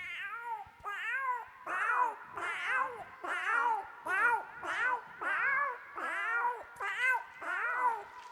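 Children at a school annual day imitating several cats meowing at once, a long run of overlapping wavering meows in steady bursts, loud and close, with no other talk.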